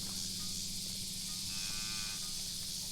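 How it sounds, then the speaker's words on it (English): Mashona cattle low with a faint, drawn-out moo around the middle, set against steady insect-like hiss and a low farmyard hum. "So our Mashona cattle,"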